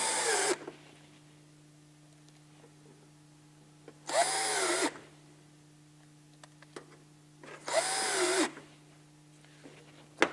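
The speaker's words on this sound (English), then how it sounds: "Gently put your screws in." A power drill drives screws into a gutter cover in three short whirring bursts spaced a few seconds apart, close and clear, with a low steady hum and faint clicks between them.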